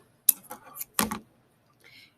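Scissors snip off the end of weaving yarn in two short, close metallic cuts, followed by a faint rustle.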